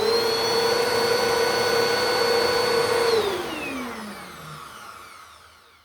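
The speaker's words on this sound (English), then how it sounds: "So here comes the Bissell in 3," A Bissell CleanView upright vacuum cleaner, refurbished, runs with a loud steady whine and roar, then spins down, its pitch falling as it fades over the last few seconds.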